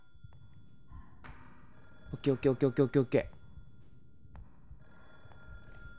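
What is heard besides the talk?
old black rotary telephone ringing in janitor's room, horror video game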